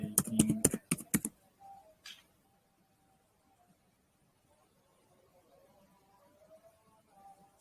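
A burst of rapid keystrokes on a computer keyboard, typed close by while writing a CV, then a single click and near silence with a faint hum.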